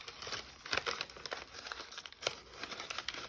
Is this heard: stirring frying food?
no